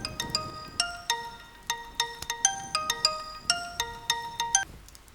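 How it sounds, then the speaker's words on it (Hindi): A phone ringtone for an incoming call in a Hindi-dubbed film plays a repeating bright chiming melody in quick regular phrases, clear and alone for several seconds before it cuts off. "फोन आया है।"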